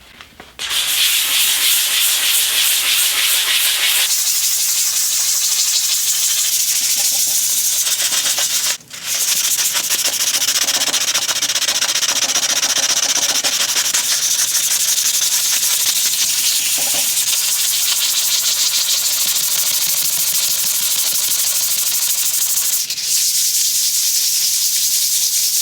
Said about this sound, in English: on a surface that has this amount of rust on it, I'm going to step up to a 220 grit sandpaper